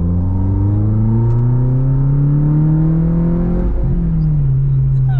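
An engine revs hard under acceleration, its tone climbing steadily for several seconds, then dropping abruptly and settling into a lower, steady drone, loud and close with no talking.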